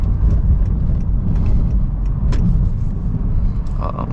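A Honda Accord engine accelerates on a Brooklyn street with eco mode switched off, a loud, steady low rumble from inside the cabin with little change in pitch, while a person talks over it.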